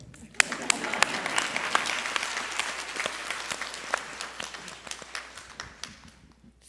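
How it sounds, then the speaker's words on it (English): Applause from the audience at an in-conversation event with designer Olivier Rousteing, made of distinct, crisp individual claps from a modest crowd that build quickly and then gradually taper off. "I want to give you an applause."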